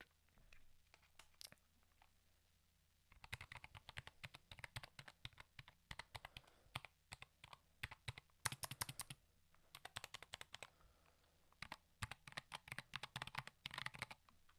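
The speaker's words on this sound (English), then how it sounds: "do some gibberish on the keyboard" Rapid keyboard typing in bursts, close and crisp, with short pauses between flurries of clacking keys and no talking.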